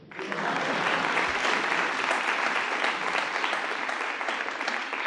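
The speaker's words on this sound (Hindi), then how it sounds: "तालियां बजाइए।" Studio audience applauding steadily through the whole stretch, a dense, even wash of clapping that holds at a strong level from start to finish with no talk over it.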